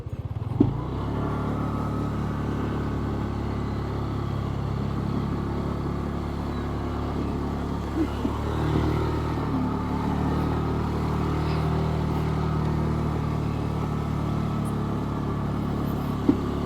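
A motorcycle rolls along a rough, uneven farm road in Magalang, Pampanga, its mid-pitched engine droning steadily with small bumps and clunks from the rutted track.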